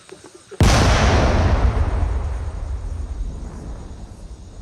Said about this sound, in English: ทีมงานเก็บกู้ร่มเฮา จะได้มีการทำลายระเบิดอยู่ที่นี้